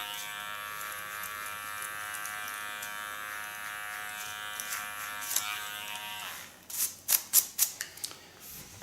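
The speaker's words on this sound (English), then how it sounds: "My clipper is of Kiona." A Kiona electric hair clipper shaves the nape of a girl getting her first nape shave, its steady close buzz running for about six seconds before stopping, followed by a few sharp snips.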